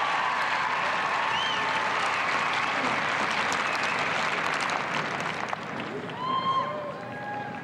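A crowd at a dog show applauds and cheers steadily around the judging ring at the 1996 Westminster Kennel Club Herding Group, the dense clapping easing slightly near the end as a few whistles rise over it.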